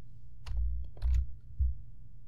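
Keys on a computer keyboard clack in a few separate quiet presses, three soft thumps with light clicks in a still room, no talk.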